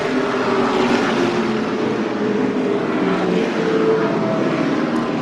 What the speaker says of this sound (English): around goes Labonte off the bumper of Marcus Ambrose, and caution is out